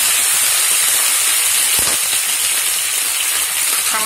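Okra hits a pan with a little hot oil and fries with a steady, loud sizzling hiss that holds throughout, with one brief knock partway through and no talking.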